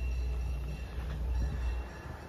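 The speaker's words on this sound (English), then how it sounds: "A train bus, train ride for kids." A tourist road train for kids rolls past outside a hotel in Rhodes, Greece, its low engine rumble steady and moderately close, with faint higher whine and no voices.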